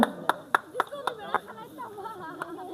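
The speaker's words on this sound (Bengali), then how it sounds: "সবাই করতালি দিবেন" A small crowd at a prize-giving ceremony for a local premier league tournament claps in a few sharp, separate bursts, fairly close and moderately loud, with some talk in the background.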